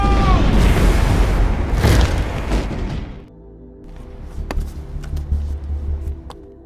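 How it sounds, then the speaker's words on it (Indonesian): A loud time bomb blast roars at once, its rumbling boom fading over a few seconds into scattered crackles and debris-like clatter. "sebelum bom itu meledak"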